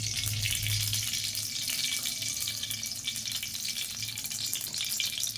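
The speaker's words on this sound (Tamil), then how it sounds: "கடாய் சூடாகிடுச்சு, ஆயில் ஊற்றிக்கலாம்." Oil hits a hot kadai for brinjal kuzhambu (ennai kathirikai kulambu) with a loud, close, continuous hiss and sizzle that holds steady throughout, with no voices.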